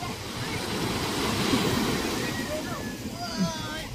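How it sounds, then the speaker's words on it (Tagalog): Heavy rain falling at dawn makes a steady, dense hiss that stays loud and even throughout, with faint high chirps rising above it near the end. "Lakas pa man din ang ulan madaling araw."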